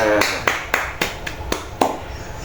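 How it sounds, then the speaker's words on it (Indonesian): Classroom group claps in unison during a lesson, a sequence of about seven loud, sharp, evenly spaced claps in a steady rhythm, close and distinct. "Tepuk tangan untuk kita semuanya"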